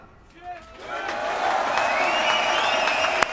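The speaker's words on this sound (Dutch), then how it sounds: "En dat er een daverend applaus uit het publiek kwam" Thunderous applause from an audience in Rotterdam, swelling from quiet to a steady, loud wash of clapping that holds to the end.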